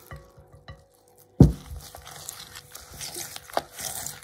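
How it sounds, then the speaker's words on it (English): Egg being stirred into sugar and butter in a bowl for Christmas doughnut dough, heard as a sudden spoon knock followed by soft, continuous scraping and mixing sounds close up. "I have to make sure that it's really mixed"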